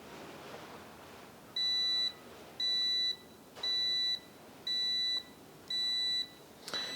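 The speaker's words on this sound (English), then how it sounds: "it is beeping at me saying I should look at servicing this" A KAIWEETS brake fluid tester, probing old car brake fluid, gives a series of five evenly spaced electronic beeps, each about half a second long, crisp and close against a quiet background.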